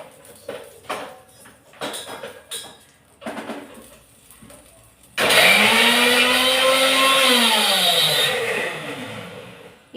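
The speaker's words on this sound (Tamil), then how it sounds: "பூண்டும் சாம்பார் வெங்காயமும் ஓரளவு எடுத்து போட்டு அரைச்சிக்க போகிறேன்." A mixer grinder whirs loudly and steadily as it grinds garlic and sambar onions, its motor pitch sagging and recovering, after a few seconds of light kitchen clatter.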